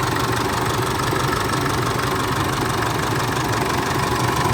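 A Chevrolet pickup truck engine idles steadily, a continuous mid-to-low rumble with a faint knocking texture and no talk over it.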